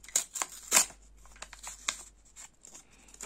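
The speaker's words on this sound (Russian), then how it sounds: "Откроем вот этот пакетик со знаком пятерочки." Paper surprise packet from the Pyaterochka store being opened by hand, with crisp crinkling and tearing rustles in several short bursts, loudest near the start, then lighter scattered crackles close by.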